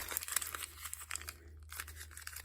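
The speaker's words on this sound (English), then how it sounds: "I am going to just crumple it all up" A magazine page is crumpled up by hand, giving close, crisp crinkling and crackling bursts of paper that rise and fall over a few seconds.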